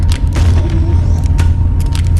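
Gunshots in the VR game Animal Company ring out as several sharp, close bursts over a steady low rumble.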